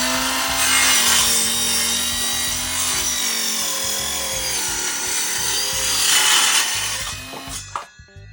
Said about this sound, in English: Moving on to a circular saw. Metal blade first.